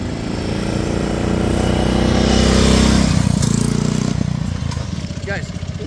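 A 1939 BSA M20 motorcycle with sidecar rumbles up close with a loud, throbbing single-cylinder engine note that swells as it arrives, then settles into a steady idle.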